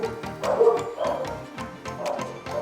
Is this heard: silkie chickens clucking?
no